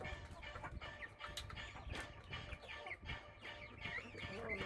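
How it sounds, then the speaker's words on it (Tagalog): Chickens, including Rhode Island hens, cluck and squawk around a small farm during morning feeding, with irregular overlapping calls near and far and a faint voice in the background. "Ito naman yung mga pinapalaki kong manok."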